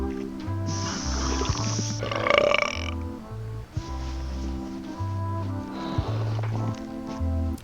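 Long, exaggerated cartoon burps from characters in the adventure game Return to Monkey Island, several in a row over a bouncy music loop, with brief voiced exclamations in between.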